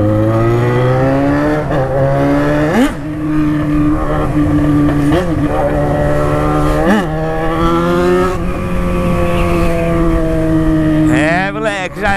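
A Jaguar XJ6 with a straight-pipe exhaust idles loud and close with a deep, raw drone, rising in repeated short revs and a final sharper rev, with someone talking over it.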